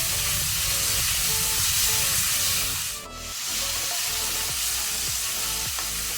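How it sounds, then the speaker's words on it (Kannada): Chopped tomato frying in an oiled pan for a cauliflower, methi leaf and potato sabji, giving a loud, steady sizzle with stirring scrapes throughout and a brief dip midway, no voices. "ಟೊಮೆಟೊನ್ನು ಸಹ ನಾವು ಒಳ್ಳೆ ರೀತಿ ಫ್ರೈ ಮಾಡ್ಕೊಳ್ಳುವ, ಸಾಫ್ಟ್ ಆಗಬೇಕು"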